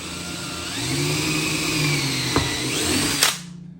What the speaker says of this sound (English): I got the jig in place, and I got the appropriate size drill bit